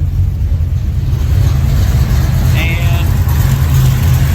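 A carbureted car engine idling steadily while it warms up, with the idle mixture screws just adjusted: a loud, even low rumble that holds constant throughout, with a faint high whine and a brief word spoken.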